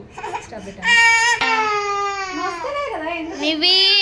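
A little girl cries loudly and tearfully during a home haircut, sobbing in sustained wails with short breaks, close by.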